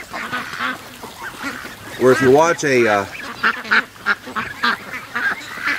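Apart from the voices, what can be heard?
ducks and geese quacking and honking while grazing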